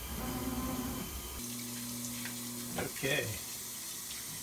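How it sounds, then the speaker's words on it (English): A household washing machine filling with water during its rinse cycle, a steady rushing flow with a low motor hum, and a brief spoken word over it. "looks like we're in the rinse stage, so the motor should start spinning"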